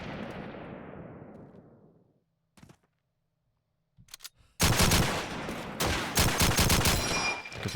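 Rapid bursts of gunfire from Call of Duty 2 in a competitive multiplayer match, a loud sustained volley after a few isolated shots and a quiet gap, with fading rumble at the start.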